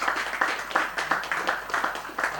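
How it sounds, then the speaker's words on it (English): An audience applauds at an industry session held by a real-estate developers' youth wing, with steady broadband clapping and rhythmic bursts throughout, moderately loud and no voices over it. "I would request everyone to give another round of applause to Mr."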